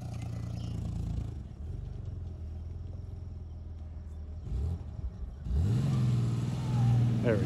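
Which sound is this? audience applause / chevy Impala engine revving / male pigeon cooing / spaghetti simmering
chevy Impala engine revving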